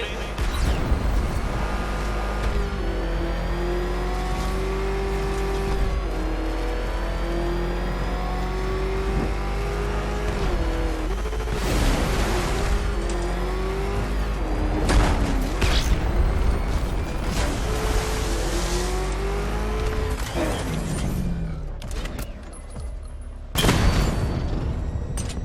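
A car engine drives and revs in the video game Batman: Arkham Knight, a steady motor drone with rising and falling pitch as it accelerates, punctuated by booms and mechanical crashes near the end.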